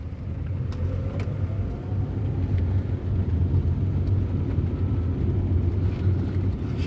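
Engine rumble from a four-wheeler being driven by a first-time driver, a steady low drone at moderate level that holds throughout with no break and no talk.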